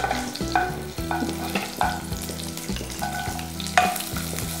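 Cumin seeds and two small pieces of green chili crackle in a little hot oil while being stirred in a pan for a capsicum potato curry. A steady close sizzle carries repeated scraping strokes and a few light metallic clinks.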